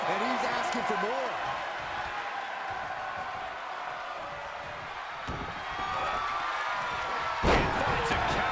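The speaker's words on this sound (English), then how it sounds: "The sound of this crowd is deafening, and he's asking for more." Loud, sustained roar of a wrestling arena crowd during a world title match, a dense wash of noise beneath a commentator's voice, with a sharp slam near the end.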